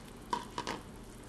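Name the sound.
stirring soup with Thai green eggplant and jalapeno peppers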